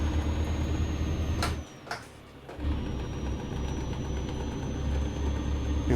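A heavy truck's diesel engine drones steadily in American Truck Simulator, then cuts out abruptly for about a second as a gear is skipped before the engine note returns and holds, loud and close with no talking.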